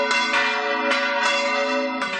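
Church bells ring loudly and close during the San Nicolás winter festival, with sustained, resonant, overlapping tolls and fresh strikes about every second, heard alone without speech.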